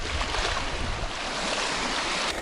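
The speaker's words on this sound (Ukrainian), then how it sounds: "бо такий вітер дме" Strong wind gusting and waves lapping on a lake during a fishing outing, a continuous loud roar of rushing air and water without speech.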